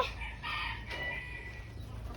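Chickens cluck softly in the background while a rooster crows faintly at a distance, over a steady low outdoor hum.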